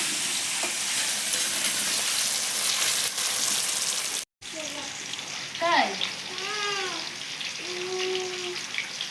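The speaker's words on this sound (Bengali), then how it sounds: "লবণ হলুদ দিয়ে আলুটা ভালো করে ভেজে নেব" Potatoes frying in oil with turmeric and salt, a steady close sizzle with scraping stir strokes, and a voice briefly heard partway through.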